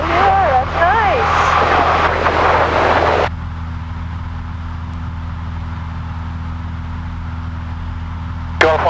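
A steady, droning small-airplane propeller-engine hum in flight runs throughout, loud and close, with talking over it early on before the engine continues alone.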